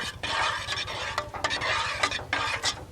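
Barbecue sauce ingredients, including cayenne pepper, are stirred together in a pot, giving close, rhythmic scraping swishes with short pauses over a faint low hum.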